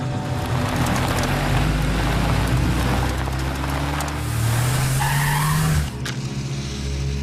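A car in a movie scene tears away fast, tires skidding and squealing over a loud engine roar that climbs in pitch before cutting off abruptly near the end.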